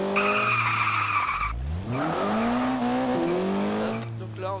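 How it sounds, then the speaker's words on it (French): A car in the Garry's Mod DarkRP video game skids loudly, its tire squeal sweeping up in pitch over a steady engine drone, close and prominent for a few seconds. "Petit dérapage."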